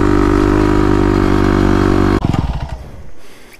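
A Kawasaki KLX351 dirt bike, about 35 hp, revs hard and loud at the sand dunes in one sustained roar that cuts off abruptly, followed by sputtering, fading engine pulses.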